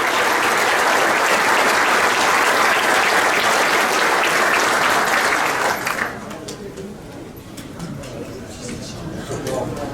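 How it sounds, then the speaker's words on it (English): A banquet audience at a softball hall of fame event gives loud, dense applause for the players and teams that runs strong for about six seconds, then drops to thinner scattered clapping with some crowd murmur. "Let's give all these players and teams a round of applause."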